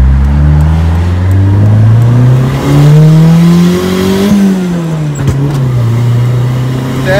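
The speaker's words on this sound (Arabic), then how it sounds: "تعالوا بقى نسمع صوت العربيه ونطلع نجري بيها شويه." A turbocharged 1992 Honda Civic engine revs hard and climbs in pitch, holds a loud growl, then drops and rises again, close up and steady with no talking.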